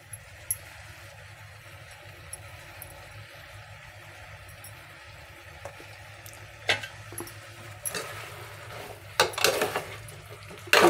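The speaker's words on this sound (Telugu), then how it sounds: "బాగా కలుపుతున్నాము." A spoon stirs cauliflower and potato masala curry in a pan, giving quiet scraping and a few clinks over a steady low kitchen hum, with louder clattering scrapes toward the end.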